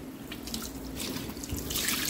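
Water runs steadily into a wash basin with a splashing, trickling flow and a low hum underneath, growing slightly louder toward the end.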